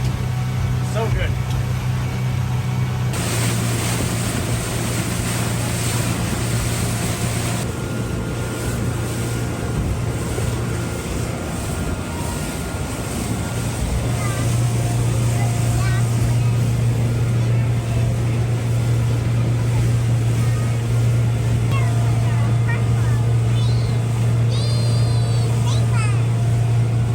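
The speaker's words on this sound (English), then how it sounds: "we always leave one engine running at a time" A boat engine, with a kicker motor tied to the main motor on a salmon-fishing boat at night on Puget Sound, hums steadily and loudly at a low pitch throughout, with people talking over it.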